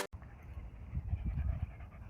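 A pet dog, a workout partner, pants quickly and steadily up close in a quiet room, the soft rhythmic breaths running throughout after a brief sharp click at the start.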